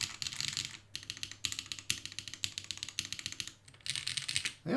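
Rapid typing on a mechanical keyboard fitted with transparent non-double-shot Signature Plastics keycaps, crisp clustered clacks in quick bursts with brief pauses, close and clear, no voices.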